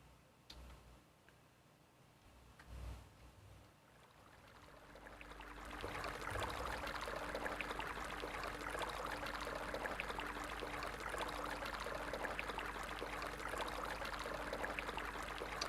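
Watering plants in the video game Weed Farmer Simulator: quiet ticking for several seconds, then a steady pouring stream of water swells in and runs continuously to the end, with no speech.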